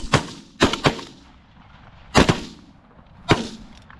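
Shotgun blasts fired at geese on a goose hunt in Pennsylvania: five loud, sharp reports in uneven bursts, a quick double then single shots spaced apart, each booming out and fading.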